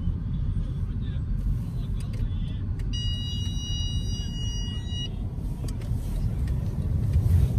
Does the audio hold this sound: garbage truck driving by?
yes